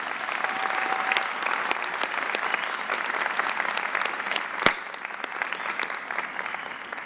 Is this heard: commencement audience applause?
yes